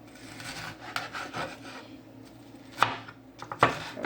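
Bhetki fish being chopped into small pieces on a board for mince, with soft knife strokes and rubbing scrapes, then two sharper, louder chops near the end, and no talking.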